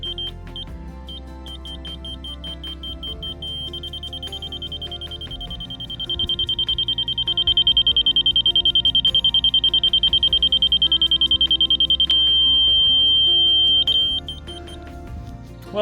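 Transit level receiver beeping: a high-pitched electronic tone pulsing in rapid repeated beeps that merge into a near-continuous pitch for several seconds, then stops, with a low background hum.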